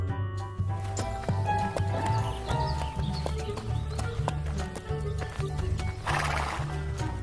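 A toy sound effect plays a horse neighing with a clip-clopping hoof rhythm over a steady, tonal musical backing, loud and continuous throughout.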